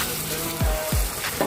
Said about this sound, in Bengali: আদা রসুন বাটাটা দিয়ে 2 মিনিট মতো ভালো করে ভেজে নেব।